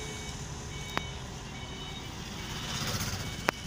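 A steady vehicle engine rumbles with faint high-pitched tones, broken by two sharp clicks about two and a half seconds apart.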